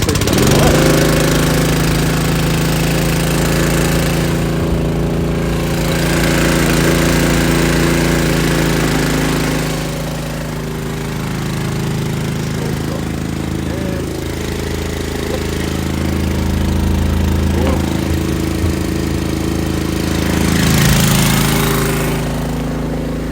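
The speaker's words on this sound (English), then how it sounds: "We're going to start the engine." Engine of a termite injection treatment rig runs steadily throughout, a loud continuous low mechanical drone with slight rises and falls, close by, set near a beach road.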